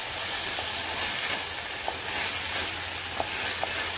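Bottle gourd curry with chana dal being stirred in a pan, a steady low sizzle and bubbling with a few faint spoon clicks, no voices.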